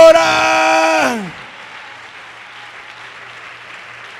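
A church congregation breaks into applause at a worship service, a broad steady patter following a held musical chord that cuts off in the first second, continuing evenly and moderately loud to the end.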